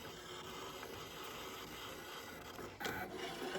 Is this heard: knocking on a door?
no